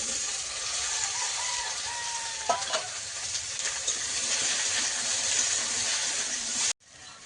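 Cut okra and potatoes fry in hot oil with browned onions, giving a continuous bright sizzle with a few soft stirring knocks, then stopping abruptly near the end.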